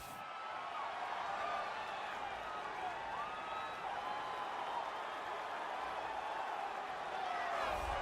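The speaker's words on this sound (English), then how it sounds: "the crowd pops as this guy makes the walk to the octagon" Crowd noise in the UFC 3 video game as a heavyweight fighter walks out to the octagon, a steady wash of distant cheering and murmur with faint claps that holds throughout.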